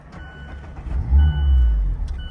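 A Mazda Miata engine cranks and catches for the first time, a low rumbling rise that swells and holds at idle, close and loud, with faint beeping chimes in the background.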